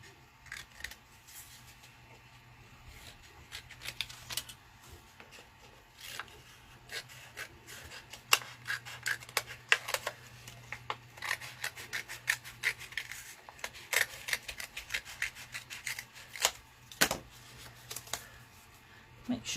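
Scissors cut paper for a Christmas mini album, giving repeated soft snips and rustles over a low hum, close by.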